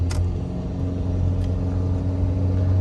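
Four-cylinder engine of a 2011 Chevrolet Malibu LT pulling hard onto a freeway, a steady low droning hum heard from inside the cabin with road rumble.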